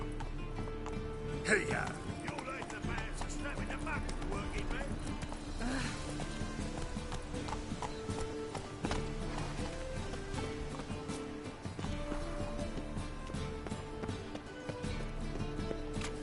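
Hooves of Roach, the horse in The Witcher 3 on PS4, clip-clop at a steady gallop through most of the stretch, sitting under a man's brief spoken calls and a bed of game music.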